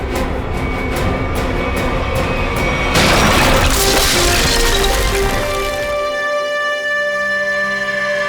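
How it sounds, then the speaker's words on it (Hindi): A door is broken down by force in a crime-drama scene, with loud, continuous crashing and splintering wood that swells in the middle and then gives way to ringing tones. "दरवाजा तोड़ दो।"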